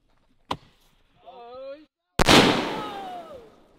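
Outdoors, a sharp bang and a brief voice are followed by the loud boom of a firework mortar firing with a whistling trail, up close.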